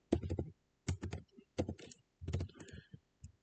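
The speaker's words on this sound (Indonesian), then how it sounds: "Ini saya ketikkan NIM saya ya." Typing on a computer keyboard: short clustered bursts of key clicks in several groups with brief pauses, close and fairly quiet.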